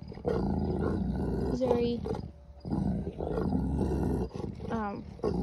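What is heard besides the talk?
mastiff dogs growling while resource guarding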